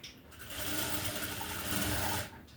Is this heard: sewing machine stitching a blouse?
yes